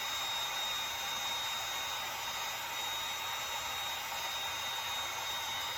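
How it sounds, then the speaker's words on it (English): A heat gun blows hot air in a continuous, even hiss and whoosh, loud and close, with no talking over it. "I've used this heat gun for a while"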